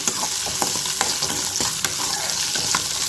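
Ginger and other ingredients for paneer butter masala sizzle steadily in a hot pan while a spoon stirs them, with scattered clicks and scrapes over a constant close frying hiss.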